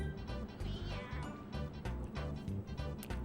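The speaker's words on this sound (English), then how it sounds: "Here's just a random little Meowth, which we have to wait ever so patiently for." Meowth's cry in the Pokemon Snap video game, a short synthesized cat meow sounding over a steady pulsing game music loop, with no talking.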